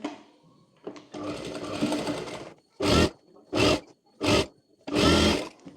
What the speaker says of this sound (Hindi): यहाँ पर रख कर पूरे में इस तरह से स्टिच कर लेंगे